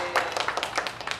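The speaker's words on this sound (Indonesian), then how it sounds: "Kita kasih ini dong tepuk tangan buat Laura." A group claps together in a short burst of applause, close and fairly dense.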